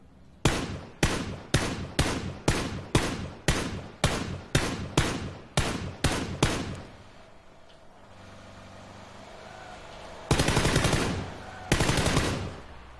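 Gunfire in PlayerUnknown's Battlegrounds: about a dozen evenly spaced, punchy single shots in a steady rhythm, then a quieter rumbling lull broken by two loud sustained bursts.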